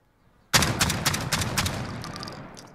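An Origin-12 shotgun fires in Call of Duty Modern Warfare, starting abruptly after a short silence. About eight loud, close shots come in fast succession, then fade into a decaying echo.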